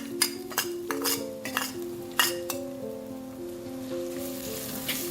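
Chopped onions sauté in hot oil in a clay pot over a medium flame, giving a soft steady sizzle. A utensil clinks and scrapes against the pot several times, and sustained tonal hums run underneath.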